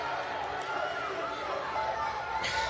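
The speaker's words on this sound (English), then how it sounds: "there's no music. It's just crowd" Steady crowd murmur and chatter from a WWE 2K18 wrestling arena in Detroit, Michigan, a continuous babble filling the background with no music.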